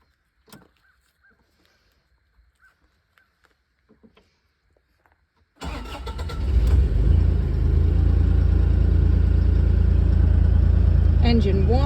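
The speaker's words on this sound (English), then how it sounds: "Engine warming up." Bobcat E35 excavator engine starts up partway through and settles into a steady, loud, deep idle while warming, after several seconds of faint clicks and quiet background.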